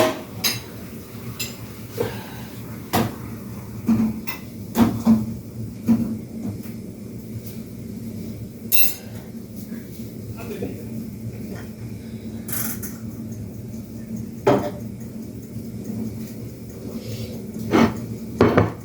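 Eggs go into a cooking pot in a home kitchen, making scattered light clinks and knocks of shell and utensil against the metal over a quiet background with no talk.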